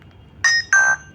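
A Nokia keypad phone plays its ringtone: two short, bright electronic tone bursts, near and clear, with a brief gap between them and no talk.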